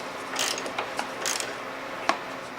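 A ratchet with a deep 10 mm socket working a stubborn bolt during an engine removal, giving a few short bursts of metallic clicking and one sharp knock, close and otherwise quiet.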